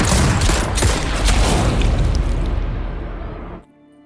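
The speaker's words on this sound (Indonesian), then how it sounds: "Lalu saat semua tamu undangan menembakkan senjatanya ke atas, Deep mengambil senjata dari Arjan" Dense volley of gunfire as wedding guests fire weapons into the air in an Indian film scene, loud overlapping shots and booms merging into a continuous roar before cutting off abruptly.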